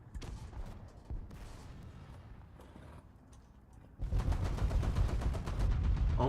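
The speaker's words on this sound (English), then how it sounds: "I only get hit by friendly artillery" Artillery fire in a video game, scattered distant thuds and crackles followed by a sudden dense barrage of rapid, loud, rattling blasts in the second half.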